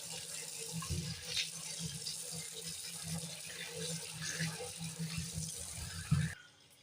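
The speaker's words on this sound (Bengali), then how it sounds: "এর জন্য আলুটাকে ভালো করে ধুয়ে নিচ্ছি আমি" Running tap water splashes steadily over sweet potatoes being scrubbed by hand in a sink, a continuous close wash with small rubbing and splash bursts, ending abruptly near the close.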